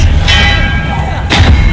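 A spell cast in Hogwarts Legacy gives a loud magical burst with bright, ringing tones that hang in the air, then a second sharp impact about a second later, all over booming low-end game effects.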